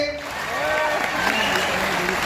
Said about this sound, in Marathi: एकदा जोरदार टाळ्या वाजवा स्वतःसाठी